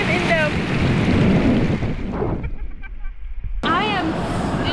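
Pacific Ocean surf washes in and pulls back along a sandy shore, a loud broadband roar with heavy wind buffeting the microphone, briefly easing before surging again, while people talk over it.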